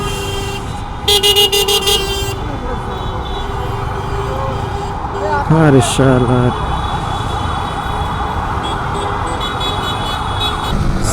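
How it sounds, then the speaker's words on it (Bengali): Busy road traffic at Farmgate in Dhaka after rain, with a constant loud rumble of engines, repeated car horn toots and a rising multi-tone horn, while someone speaks briefly over the noise. "ঢাকা মানে হচ্ছে ব্যস্ত রাস্তা আর এভরিথিং"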